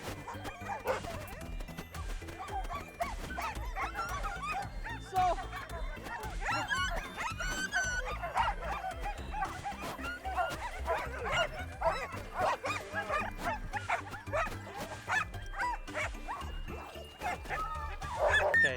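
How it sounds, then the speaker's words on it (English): Sled dogs bark, yip and whimper excitedly amid a busy, noisy background at a dogsledding outing, the barking repeated throughout at moderate distance. "His name is Thor, the one at the end there, who's jumping up and barking."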